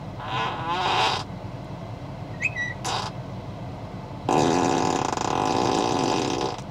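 Tesla emissions testing mode plays comic fart sound effects: a few short blasts, a tiny squeak, then a longer, louder raspy fart. The sounds are close and clear, with no talk over them.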